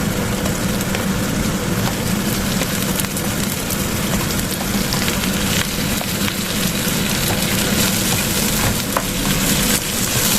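Squid frying in a pan for Filipino adobong pusit, a loud, steady, close sizzle and crackle of hot oil that continues unbroken throughout, with no talk.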